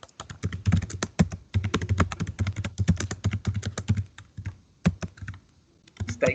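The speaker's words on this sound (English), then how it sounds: "It's typing so fast." Rapid, continuous typing on a computer keyboard, close and crisp, with dense bursts of keystrokes broken by a few brief pauses and a quieter stretch near the end.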